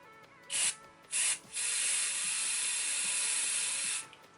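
Two short bursts from an aerosol hairspray can onto an eyebrow spoolie, then one long continuous hiss lasting a few seconds, close by.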